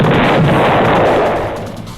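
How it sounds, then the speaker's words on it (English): Loud, sharp explosion blast in the video game Deltarune, a sudden burst of crackling noise that decays over about two seconds with no voices. "It's an explosion!"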